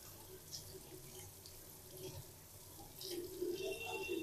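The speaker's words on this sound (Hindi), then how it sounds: "दोस्तों ये पानी जो है चल रहा है" Tap water runs from a faucet over a pair of boAt Nirvana ION earbuds during a water test, a soft, steady splashing that grows slightly fuller toward the end, faint and close.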